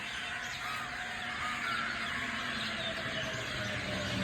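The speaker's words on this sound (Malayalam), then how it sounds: "കാക്ക," Crows caw among the calls of a large flock of birds gathered outdoors, a steady chorus of overlapping caws and chirps heard from a moderate distance with no talking.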